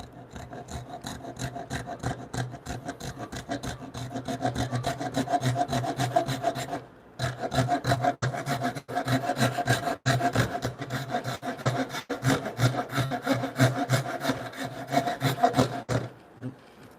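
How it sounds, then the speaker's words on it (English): Rip cut through timber with the rip side of a hand saw during timber frame woodworking, a long run of steady rhythmic rasping strokes, close and loud, with a brief pause partway through before the strokes resume. "Rip cutting with the rip cut side of the saw, trying to stay outside that cut line."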